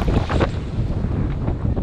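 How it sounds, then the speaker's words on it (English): Strong headwind buffets a catamaran beating upwind at sea, a loud, steady broadband roar of wind across the microphone with waves and water rushing beneath, continuous throughout without voices. "We would have a headwind, that is, us beating into the wind for the entire time."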